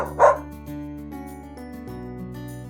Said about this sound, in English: I'm a dog.